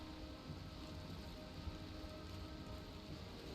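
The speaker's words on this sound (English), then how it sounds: "It's raining in the ocean biome right now" Rain in the ocean biome of the video game Valheim: a faint, even hiss of falling rain with a low rumble beneath, steady throughout and without talk.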